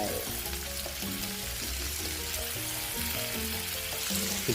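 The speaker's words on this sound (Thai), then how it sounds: "พริกไทยอ่อนครับผม ใส่ลงไป" Green peppercorns go into a hot wok of spicy stir-fried sea catfish, giving a loud, steady sizzle with bursts of crackling and the scrape of stirring.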